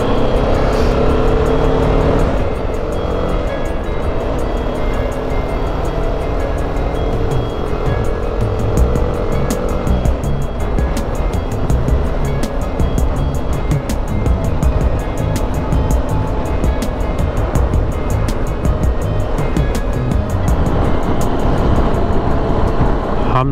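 Steady road traffic in Alleppey, Kerala, with engines rumbling and vehicles passing close by for the whole stretch, loud and continuous, with scattered sharp clicks and horn-like tones over the din.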